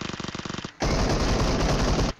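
Video game gunfire: a rapid, evenly spaced automatic burst, then a denser, louder roar of continuous fire that stops abruptly, with no talk over it.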